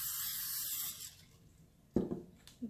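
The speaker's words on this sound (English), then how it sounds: "First spray the pan." Cooking spray hisses onto a pan for about a second, followed by quieter handling clatter.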